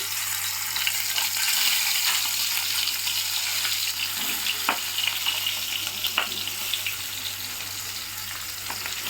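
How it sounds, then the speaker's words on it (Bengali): Prawns sizzle and crackle in hot oil in a wok, a steady bright frying hiss with occasional pops, heard close with no talk. "এবার চিংড়ি মাছটা একটা একটা করে দিয়ে দেবো কড়ার মধ্যে।"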